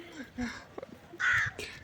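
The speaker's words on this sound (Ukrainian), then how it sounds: "О, навіть ворони." Crows cawing outdoors in autumn, a few separate harsh calls, with the loudest one near the end, fairly close and clear over quiet surroundings.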